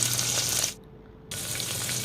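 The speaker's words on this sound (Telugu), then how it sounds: "మనకైతే తాలింపు మంచిగా ఫ్రై అవ్వాలి" A mustard seed and cumin tempering for tomato dal fries in a pan with a loud, dense sizzle that briefly cuts out for half a second before resuming just as strongly; no one speaks.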